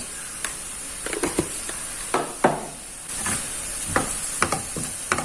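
Spices such as turmeric and coriander powder being stirred into beef masala in a pan for Kerala-style beef chaps, with scraping and rustling strokes of moderate loudness in irregular bursts and a faint sizzle underneath.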